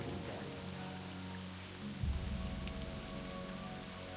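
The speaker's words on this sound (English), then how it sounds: "Nice rainy day at Talon Watch." Steady rain falling at Talon Watch in the video game World of Warcraft Dragonflight, a dense continuous patter across the whole stretch with a low rumble swelling midway, no voices.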